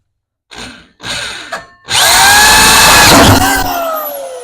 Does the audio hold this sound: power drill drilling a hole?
yes